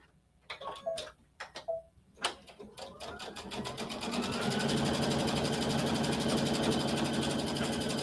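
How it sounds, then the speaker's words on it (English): A sewing machine stitches a quilted heart bag strap. A few short starts and handling knocks come first, then a steady, fast, close mechanical whir runs to the end. "I'm going to go ahead and just sew over here now."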